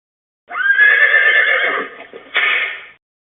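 A horse whinnies loudly and close by, one long rising-and-falling neigh followed by a short second burst, with no other sound around it; the horse is being driven with a tight check rein, heads held up.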